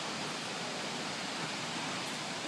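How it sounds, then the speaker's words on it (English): Heavy roar of a big waterfall crashing down, a steady, dense rushing wash that stays loud and unbroken from start to finish with no voices. "you get smashed by that big waterfall"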